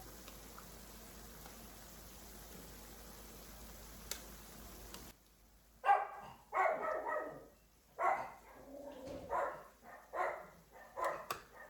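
Chihuahuas bark in a string of sharp yaps after a few seconds of low kitchen hum, the barks close and fairly loud, coming in quick irregular bursts.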